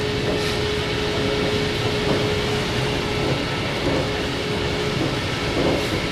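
An MBTA commuter train rolls along on a Boston line, filling the car with a loud, steady rumble and a faint sustained tone. No one speaks.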